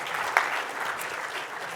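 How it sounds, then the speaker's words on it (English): Steady applause from the crowd at a gala dinner fills the brief moment, even and moderately loud, with one sharper clap near the start. "Give Sal and his team a round of applause again for their honor"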